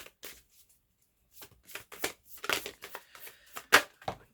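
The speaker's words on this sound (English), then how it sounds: "I'm going to just put those back in the deck and continue shuffling" Tarot cards being shuffled by hand in a series of crisp riffling bursts and soft flutters, close and fairly quiet, with short pauses between shuffles and no talking.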